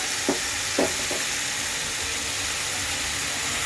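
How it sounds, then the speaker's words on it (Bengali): Boiled taro is stirred into spices frying in a pan: a steady, close, hissing sizzle fills the whole stretch, with three quick spoon scrapes near the start and no talking. "কচুটা দেওয়ার পর আমি খুব সুন্দর মতো মিক্স করে দেব মশলাগুলোর সাথে।"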